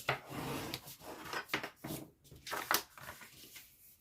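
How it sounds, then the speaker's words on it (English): A bone folder presses and rubs along the folded score lines of cardstock paper, with short, close, dry scraping strokes in an uneven rhythm and no talking. "and just fold and burnish on all your score lines."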